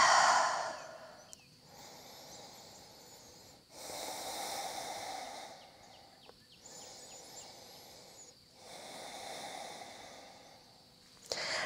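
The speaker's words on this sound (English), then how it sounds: "Nice deep breaths." Slow, deep breaths during a yoga flow, each long inhale and exhale rising and falling in steady waves with pauses between, close and fairly soft with no talking.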